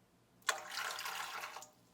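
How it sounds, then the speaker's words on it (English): Warm water pours steadily into the bowl of a KitchenAid 5.5 quart bowl-lift stand mixer, a sudden splash followed by a broad rushing stream for just over a second before it stops. "half a cup of warm water"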